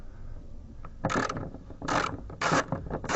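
Close-up ratchet on an extension clicks in three quick bursts, each a rapid run of metallic pawl ticks, as it loosens a 10 mm nut holding the bumper to the fender on a 2006 Audi A6 C6.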